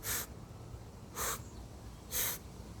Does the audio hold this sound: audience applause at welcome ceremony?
no